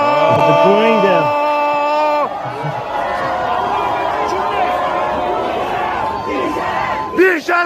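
University students in Iran chanting loudly in unison, rhythmic voiced shouts up close, then fading into a murmuring crowd and scattered booing, with a sharp shout near the end.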